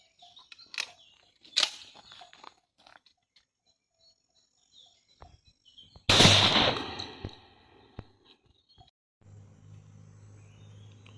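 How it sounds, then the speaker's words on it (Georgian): A Stoeger M3000 shotgun fires a 30 g No. 9 shot cartridge with a wad container through a four-notch choke at a paper target 35 m away: one loud, sharp blast midway with a decaying tail, preceded by a few faint clicks. "პირველი გასროლა იქნება წვრილი საფანტით 9 ნომერი 30 გრამი ვაზნა კონტეინერით"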